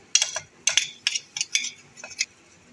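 Spoon scraping and clinking in a pan while garlic-ginger paste is stirred into onions, several short distinct strokes in quick bursts, close and moderately quiet.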